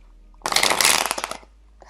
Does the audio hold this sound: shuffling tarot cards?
yes